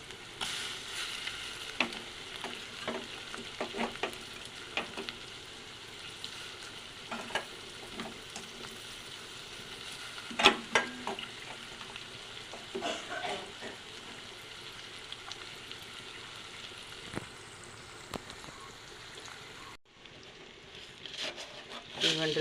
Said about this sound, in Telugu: పచ్చిరొయ్యలు కూడా నూనెలో వేగాలి.